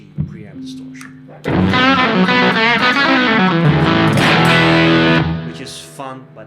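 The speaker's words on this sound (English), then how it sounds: "This is very overwhelming, mushy preamp distortion." A Fender Princeton Reverb guitar amp plays with heavy, mushy preamp distortion, a loud fuzzy burst of chords lasting a few seconds between quieter moments, with a voice speaking before and after.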